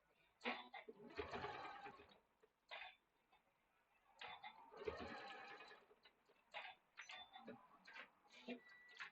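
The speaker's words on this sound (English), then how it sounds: "I'm just going to sew on that diagonal line between that line and that line." Sewing machine stitching a diagonal line across a quilt block, running in several short bursts of a few seconds each with brief pauses between, close and moderately quiet.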